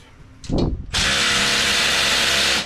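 A power tool drives bolts at a speed shop: a short burst of rattling, then a loud sustained whirring whine that holds steady to the end.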